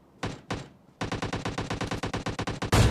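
Gunfire from an AWM sniper rifle in a mobile battle royale game: two separate shots followed by a long, steady run of rapid automatic fire and a louder burst at the end, close and loud, with no talk.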